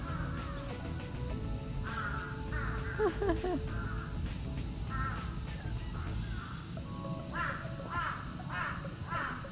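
Birds calling in the bird section of a zoo in Tokyo, with crow-like caws and scattered chirps repeating across the clip over a steady high hiss of insects or background noise, with no talk.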